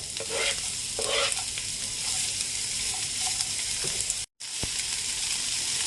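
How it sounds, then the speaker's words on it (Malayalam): Chopped large onion sizzles and fries steadily in a pan with occasional stirring scrapes, a continuous close hiss that drops out briefly near the end before resuming. "പാനിലേക്ക് ഒരു വലിയ ഉള്ളി മുറിച്ചത്,"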